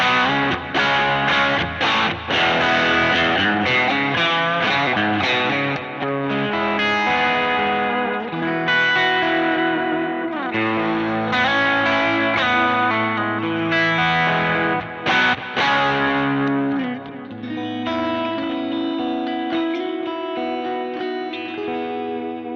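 Electric guitar played through a Helix AC44 amp model with a compressor and delay, loud and continuous with a driven, chiming tone, ringing chords and repeating echoes.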